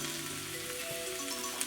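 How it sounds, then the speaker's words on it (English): Steady, close sizzling of greens and garlic frying in a hot pan, a continuous crackling hiss with faint tones underneath. "you hear that sizzling"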